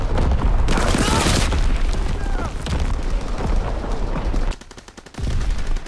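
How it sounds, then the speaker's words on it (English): Primary battery gunfire in the shooter game Call of Duty, loud booming bursts and rapid heavy shots in close succession, a brief lull, then more firing, with a voice speaking at points. "Firing primary battery."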